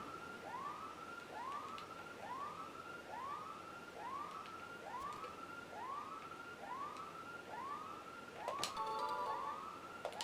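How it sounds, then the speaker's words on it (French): An alarm siren from the Pokémon Colosseum video game wails in a fast, repeating rising sweep. About ten even cycles play at a steady moderate volume, with a few electronic blips near the end. "ça ressemble même à une vraie alarme"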